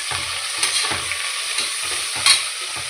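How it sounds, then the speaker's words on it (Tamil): Tomatoes stir-fry with onions in a pan, a constant sizzle broken by about half a dozen rhythmic scraping stirs of the spoon, close up with no voices. "இப்போ தக்காளி போட்டுக்கலாம்"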